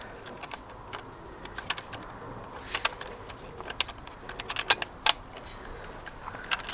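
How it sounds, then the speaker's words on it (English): Plastic parts of a Thetford motorhome toilet cassette clicking and snapping, a run of sharp, close, irregular clicks and taps with faint talk in the background. "You need to click this in"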